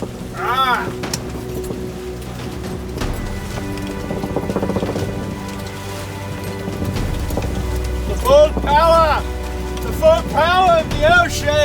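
A storm at sea batters a sailboat heeled over at 30 degrees, with steady rain, water rush and wind noise throughout, while voices shout over it in bursts.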